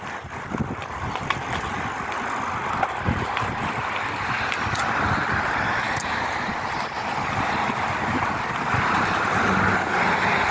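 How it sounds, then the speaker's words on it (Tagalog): Continuous road noise rumbles throughout, a steady wash of traffic with vehicles moving along a nearby road, fairly loud and unbroken, with no voices. "Daanan kasi ito ng sasakyan."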